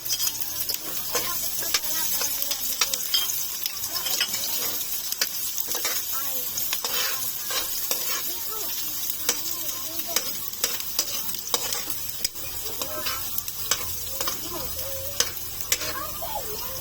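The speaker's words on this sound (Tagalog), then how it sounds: "umpisahan na nating igisa ang luya at sibuyas" Ginger and onion sautéing in hot oil in a pan, a steady crackling sizzle with scraping stirring strokes throughout, close and fairly loud with no talking.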